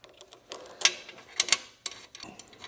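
A Triumph Scrambler 1200 slip-on silencer being twisted into place, with a few sharp metallic clicks and scrapes set apart by short pauses, close and fairly quiet.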